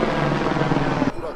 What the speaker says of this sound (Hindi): कंटिन्यू हेलीकॉप्टर्स आ रहे हैं जा रहे हैं